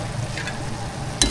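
Chicken feet bubble in a boiling pot, giving a steady close simmering hiss with a sharper clatter near the end and no voices.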